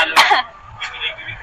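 One sharp cough near the start, then a fainter throat-clearing sound, over a muffled background that suggests a broadcast.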